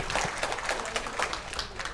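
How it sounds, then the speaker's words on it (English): A round of applause from guests at a milestone birthday party program in a Marriott ballroom, steady dense clapping at moderate level that fills the whole moment without any voices over it. "Round of applause for her trivias."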